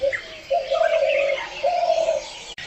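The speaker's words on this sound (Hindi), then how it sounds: "तो ये जो चिड़िया है ये है घुघुतिया या डव भी बोलते हैं इसको, स्पॉटेड डव" A spotted dove in Uttarakhand gives soft, hollow coos in two drawn-out phrases separated by a short pause, heard fairly close and on its own without speech.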